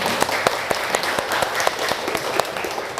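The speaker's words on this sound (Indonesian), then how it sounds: "tepuk tangan" Applause in an Indonesian teacher-training classroom, a small group clapping steadily for three seconds, individual claps distinct and close, with a brief voice murmuring underneath.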